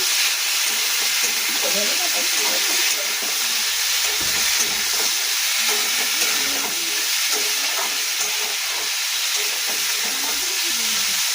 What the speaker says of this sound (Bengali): এই যে মূলো শিম আলু এগুলো লঙ্কা সব ভাজবো পাঁচফোড়ন ফোড়ন দিয়ে দিয়েছি